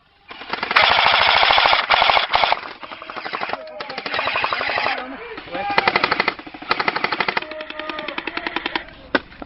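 Airsoft guns fire in long rapid bursts and short strings during an airsoft game, loud and close, with brief pauses between volleys and a few faint voices.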